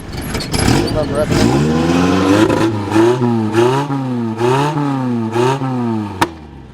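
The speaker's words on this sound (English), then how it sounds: "You see it fires up, idle's good and everything." A custom-built limo golf cart engine, still cold after starting, idles with a steady rumbling tone that rises and dips in gentle wavering cycles, close by, with someone talking over it before it cuts off abruptly.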